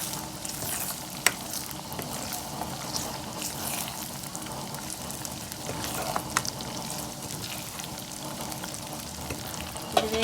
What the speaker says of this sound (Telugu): ఇది వేగుతుంది.